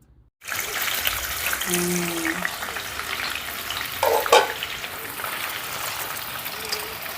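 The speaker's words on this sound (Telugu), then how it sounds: "ఇప్పుడు నాలుగు టీ స్పూన్లు ఆయిల్ వేసామండి దీంట్లో మన పన్నీర్ని ఫ్రై చేసుకుందాం" Paneer fries in four teaspoons of oil in a pan, a continuous close crackling sizzle that starts abruptly after a brief silence, with a faint hum and stirring scrapes partway through.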